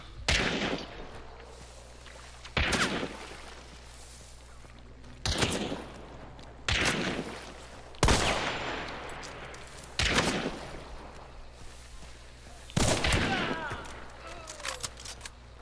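Gunfire in the video game Hunt: Showdown: six loud, sharp shots roughly two to three seconds apart, each trailing into a long echoing tail over a low steady background hum.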